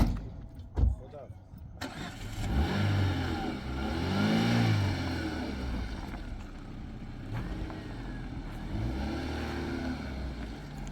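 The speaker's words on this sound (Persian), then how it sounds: "روشن نمیشه ماشین." A car engine cranks repeatedly with a whirring, rising-and-falling starter sound but never catches, while people talk nearby.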